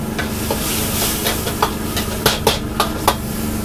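Noodles with egg and black pepper seasoning are stir-fried in a hot wok, a continuous loud sizzle with rhythmic scraping strokes of the spatula about every third of a second, with no talking.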